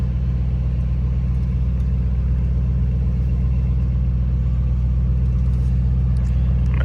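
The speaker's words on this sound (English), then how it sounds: "Gotta give y'all a little launch real quick, bruh." A Lamborghini Urus launches hard, its engine giving a loud, steady, deep rumbling roar that holds throughout, close up and without talk.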